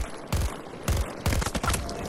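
Gunfire in the shooter game Battlefield 2042, with three sharp bursts of rapid automatic shots spaced across the moment, loud and close with no talking.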